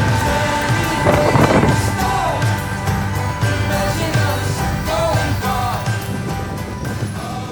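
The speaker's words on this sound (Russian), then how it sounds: "А, дождь, да? И ветер." Steady rain and gusting wind during a cycling trip in Normandy make a broad, continuous rush, with some faint rumbling and scattered knocks underneath.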